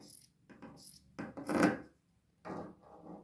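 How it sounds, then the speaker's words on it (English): Scissors snip through a cotton concert T-shirt, cutting half-inch strips in a few short, quiet bursts of cloth-cutting sounds separated by pauses. "I am just going to cut 1/2 inch strips up to that chalk line."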